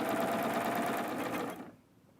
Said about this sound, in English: Put your foot down and you're ready to sew.